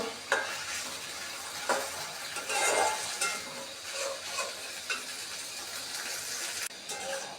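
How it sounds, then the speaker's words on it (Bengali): Onion, garlic and ginger paste frying in a pan with onions while being stirred, a close sizzle broken by repeated scraping stirs and soft clinks of utensil on pan, no voices. "এখানে পেঁয়াজের বাটা রসুন বাটা আদা বাটাগুলো দিয়ে দিলাম কিছুক্ষণ পেঁয়াজের সাথে ভেজে নিব"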